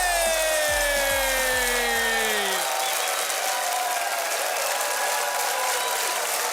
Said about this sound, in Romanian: Aplauze pentru magicianul Robert Tudor